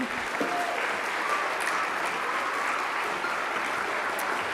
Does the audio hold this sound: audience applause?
yes